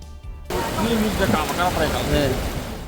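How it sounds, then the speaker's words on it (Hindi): Heavy downpour during severe flooding in Mahoba, a dense, loud roar of rain that starts abruptly and continues steadily, with a voice faintly mixed beneath the noise. "महोबा में 4 दशक बाद सबसे भयंकर बारिश हो रही है।"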